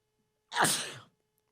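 A single sharp sneeze, close and loud, in otherwise near silence.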